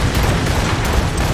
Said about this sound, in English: I'm shooting the crap out of that ship with a puffle gun.